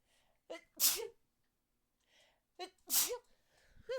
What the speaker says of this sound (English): Oh, excuse me, I gotta sneeze.